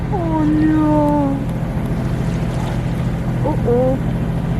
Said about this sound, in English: And we have to go with the engine now.